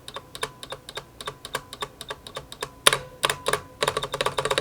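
Crisp clacking keystrokes on a Corsair K60 PRO RGB SE mechanical keyboard with Cherry Viola switches and PBT keycaps, irregular then faster bursts, each with a hollow, ringing case resonance; close and fairly quiet.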